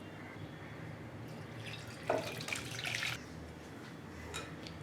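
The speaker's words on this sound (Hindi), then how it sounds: "ये यखनी को हम छान लेंगे, छान करके अलग रख देंगे संभाल कर।" Mutton yakhni broth is poured through a strainer, giving a short, soft trickle and splash of liquid over quiet room background.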